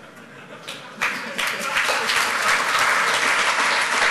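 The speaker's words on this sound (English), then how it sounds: "give another quick round of applause for Travis Goodspeed." Audience applause at the close of a conference talk swells from a soft start into steady, dense clapping that fills the room, with a few voices mixed into the crowd noise.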